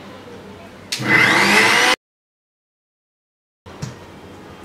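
A mixer grinder blending raw beet cutlet mixture gives one loud, harsh whirring burst of about a second, with faint background noise before it and a quieter rustle after a silent pause.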